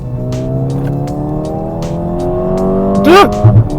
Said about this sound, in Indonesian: Kebantu sama suara brabnya itu ya, dari artificial soundnya dan juga dari knalpotnya,